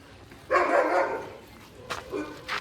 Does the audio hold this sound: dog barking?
yes